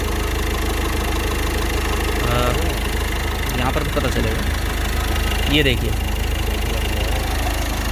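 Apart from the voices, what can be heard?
Ford EcoSport diesel engine idling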